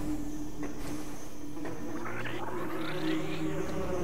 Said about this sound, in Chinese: 有一些蜜蜂。